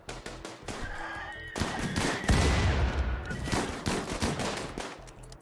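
Gunfire and grenade blasts from a raid in the colony game RimWorld crackle in dense overlapping volleys with heavier thumps, moderately loud and continuous.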